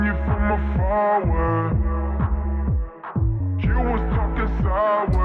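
A mellow house groove with a steady four-on-the-floor kick, warm bassline and soft chord stabs, playing alone with a brief dip near the middle.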